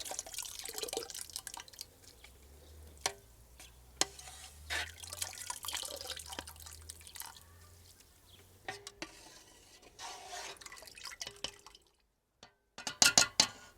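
Elderflower syrup straining out of the strained flower bits, with soft irregular drips and wet trickles, close and quiet, plus occasional light clinks and a brief louder rattle at the end.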